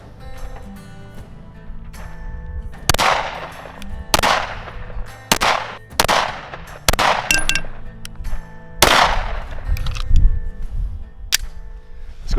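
A Sig P320X Carry pistol fires at an outdoor range, about a dozen sharp, loud shots in irregular groups, some spaced and some in quick pairs, with ringing clangs from steel targets between them.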